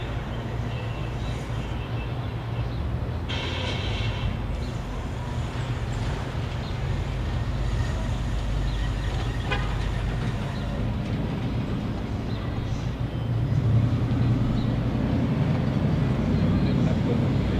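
A CSX freight train passing a rail watch spot in Dalton, Georgia, a steady loud rumble and rolling rail noise of wagons going by, with people talking faintly over it.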